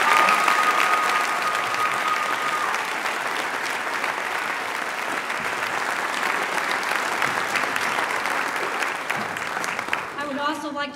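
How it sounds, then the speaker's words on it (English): An audience at a school winter concert applauds volunteers, dense continuous clapping from a large crowd filling the space, with a brief tone at the start and a voice at the very end. "Would you please give them a round of applause?"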